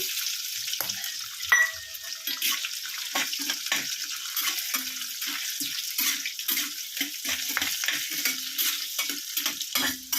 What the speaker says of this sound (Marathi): कढीपत्ता, याला चांगलं परतायचं आहे आपल्याला। यात टाकायची आपल्याला राई